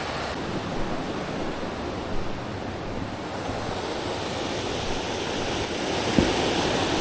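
Rushing water of Porters Creek in the Great Smoky Mountains pours steadily, a broad continuous roar with slight wind buffeting, no voices.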